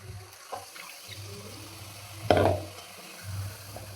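Masala rinse water splashes into a pan in one short pour partway through, with faint clinks and a low steady hum around it.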